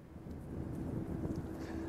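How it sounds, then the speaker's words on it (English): Outdoors in the Las Vegas valley, a steady low rush of wind buffets the microphone, a continuous rumbling blow with no talk over it. "Carl, it's still a little windy out here"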